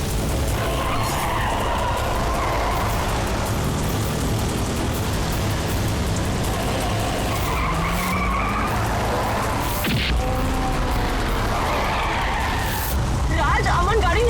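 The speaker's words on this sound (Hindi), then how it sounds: "ये अमन की गाड़ी है, पर ये इस तरह क्यों चला रहा है?" A car driving erratically, skidding with tires scraping over a loud, continuous roar of engine and road noise, surging and fading as it moves, with people speaking under it.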